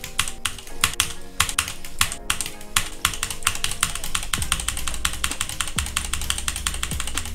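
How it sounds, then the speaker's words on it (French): Rapid mechanical key clacks from a white Bluetooth keyboard with red switches, a dense, steady run of close, crisp strokes with brief pauses, and a low engine-like hum running underneath. "il a l'air de vraiment plutôt bien fonctionner pour un clavier Bluetooth"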